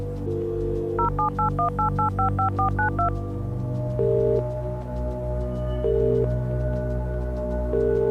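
A cartoon telephone is dialed with a rapid run of bright keypad beeps, then spaced ringing tones sound over a low background music bed.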